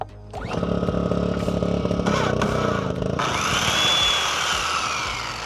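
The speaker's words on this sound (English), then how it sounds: "let's get this generator going" A Ryobi generator is started and its engine runs loud and close throughout, with a steady buzzing drone that shifts in pitch partway through.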